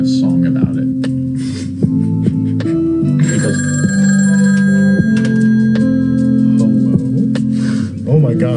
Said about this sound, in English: Lines are ringing out of control.